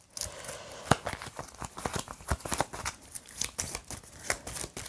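A discard pile of cards in the board game After Us is shuffled by hand, giving a run of quick riffling and snapping bursts of crisp paper noise, close and fairly quiet.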